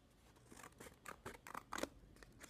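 Scissors cut along the folded edge of paper in a quick run of about eight close, crisp snips that grow slightly louder toward the end.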